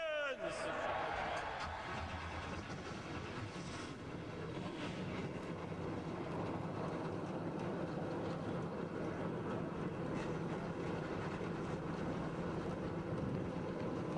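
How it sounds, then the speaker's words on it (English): A field of race cars fires up at the 2005 Gatorade Duels, building into a massed, steady engine roar that fills the whole stretch at loud, constant volume. "Gentlemen, start your engines!"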